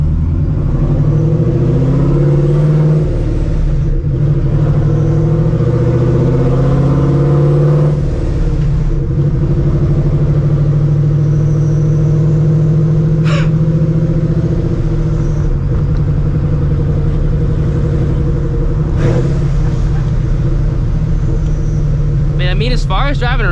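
A procharged 2V Mustang GT with exhaust cutouts open holds a loud, deep, steady exhaust drone that swells at times, close to the microphone throughout.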